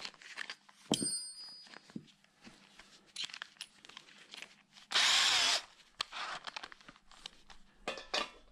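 A power drill bores holes in a part of a Royal Enfield Meteor 350 / Classic 350 bobber project, with one loud half-second burst of whirring drilling amid scattered clicks, taps and handling noises in a quiet workshop.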